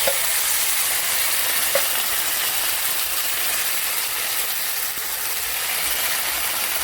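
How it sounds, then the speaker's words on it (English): Tomatoes tipped into a pan of wilted peppers and onions for arrabbiata sauce, a loud dense sizzle and frying hiss filling the whole stretch with a couple of small knocks, close up. "now it's time to add in the tomatoes."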